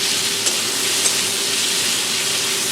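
Constant hiss and sizzle of peanut mash frying in a pan as it is stirred, a steady close texture with a couple of faint clicks from the utensil and no voices.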